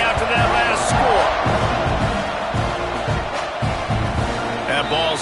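Football stadium crowd at Texas A&M versus Auburn buzzing after a scoring drive, a loud, dense, sustained roar of many voices with scattered shouts and a commentator talking over it.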